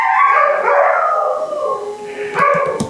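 A guard dog howls in long, wavering, loud cries close by, ending in a few short yips and barks, with no voices over it.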